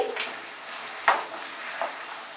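Bengali mutton curry with potatoes being stirred in a pan over medium heat: a soft bubbling hiss with one sharp scrape of the spoon and a fainter second one, brief and close.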